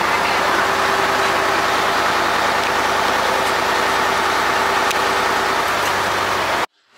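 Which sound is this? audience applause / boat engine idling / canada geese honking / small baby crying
boat engine idling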